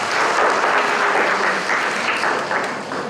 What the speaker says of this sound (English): so please give Mrs. McInnes another round of applause.